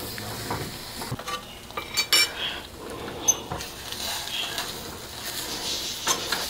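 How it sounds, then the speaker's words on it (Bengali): Almond barfi mixture being stirred and thickened in a pan, close and fairly clear, with irregular scraping and light metallic clinks of a spoon against the pan over a faint sizzle. "কিছুক্ষণ আমি নেড়ে চেড়ে এটাকে শক্ত করে নেব।"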